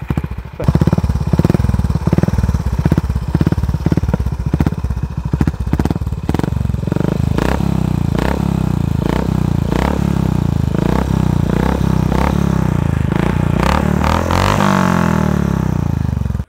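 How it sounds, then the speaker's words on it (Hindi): A Honda H'ness CB350 motorcycle with a modified exhaust idles with a loud, lumpy exhaust burble, blipped through repeated throttle revs that rise and fall, close to the microphone. "बाइक को और आपको एग्जॉस्ट नोट सुनाते हैं इसका"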